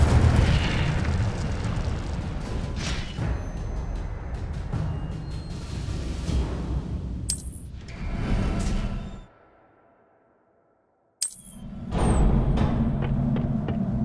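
Incendio fire spell cast in Hogwarts Legacy: a loud, roaring whoosh of flame that runs for several seconds, cuts to near silence, then bursts back in, with sharp crackling pops in between.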